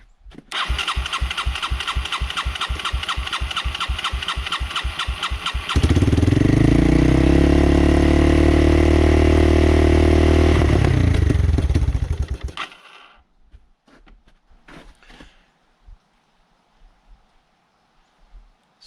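A 1986 Yamaha Moto4 YFM200 DX shaft-drive ATV engine cranks with rapid rhythmic chugging, then catches and runs loudly at a steady idle before shutting off, leaving faint clicks.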